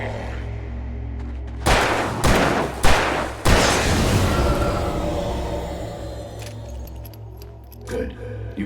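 Gunshots in Alan Wake: three sharp, loud shots in quick succession followed by a longer blast that rings out and decays, set against a steady low hum with faint sounds afterward.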